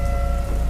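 Heavy rain pours steadily through a horror story, a dense continuous hiss with a low tonal drone beneath it and no voices.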